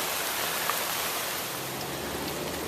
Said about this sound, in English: Thwarted by rain again.